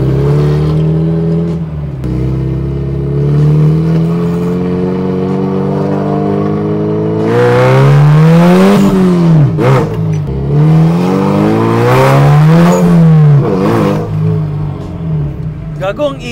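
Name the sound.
Toyota Corolla with 299 hp 3SGTE engine accelerating hard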